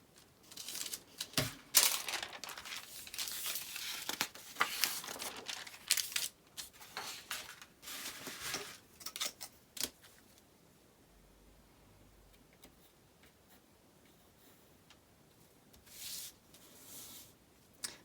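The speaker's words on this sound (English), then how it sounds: "I'll cut out the pattern piece" Scissors snip and rustle through a paper collar pattern piece, close and fairly quiet, busy for the first ten seconds, then near silence with a few soft crinkles at the end, no talk.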